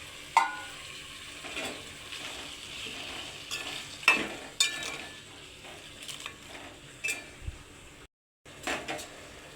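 Tomato pieces, tossed in with turmeric, fry quietly in a pan for tomato rice as a spoon stirs at intervals, giving soft knocks and scrapes over a faint, low sizzle.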